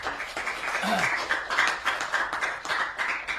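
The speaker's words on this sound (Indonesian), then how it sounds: "Tepuk tangan untuk Mbak Eka Semendu" A school audience claps for Eka Suranti in a steady, fairly close patter of hands that lasts throughout, with a brief voice under the noise.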